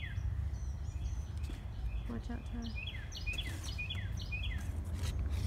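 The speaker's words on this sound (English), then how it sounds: "Don't those birds sound so good?" Songbirds chirp in repeated short bursts across a park, their calls fairly clear above a steady low rumble of wind or traffic, with a brief spoken remark partway through.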